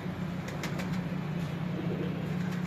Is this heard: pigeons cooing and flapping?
yes